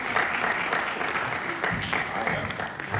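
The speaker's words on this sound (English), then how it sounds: "Nobody ever claps for me on Sunday" A church audience applauds for the pastor at a graduation program, steady dense clapping from many hands filling the room, with some voices mixed in.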